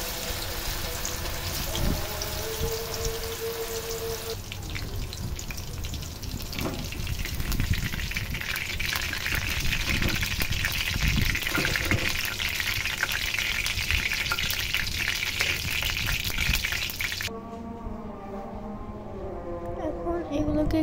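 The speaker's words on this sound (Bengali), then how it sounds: "তারপর এগুলোকে হালকা করে ভেজে নেবে।" Green banana pieces fry lightly in a pan with a continuous sizzling hiss and occasional stirring, close and moderately loud, with a person talking over the frying and a brief quieter stretch near the end.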